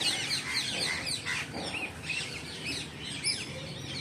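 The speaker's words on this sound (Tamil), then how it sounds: "கிளி கீச்சொலி இனிமை" A parrot chirps in quick, bright bursts that repeat and overlap, close and lively against a soft outdoor background, with no talking.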